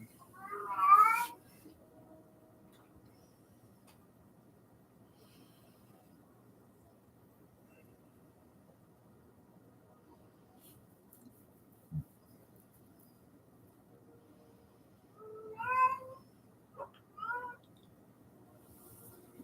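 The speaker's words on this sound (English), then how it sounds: "Anybody want a cat?" A cat meows loudly in a short burst at the start, then stays quiet for a long stretch. A couple more meows come later, close by in a quiet room, with a faint voice murmuring underneath.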